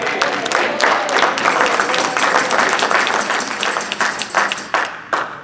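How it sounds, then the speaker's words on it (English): A church congregation claps their hands during a sermon, loud and close, with distinct sharp individual claps audible within the crowd's applause, thinning into scattered claps toward the end. "Clap your hands for the Lord."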